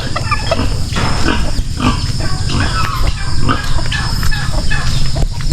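Pigs on a farm grunt and squeal continuously, loud and close, a busy chorus of several animals with some background voices.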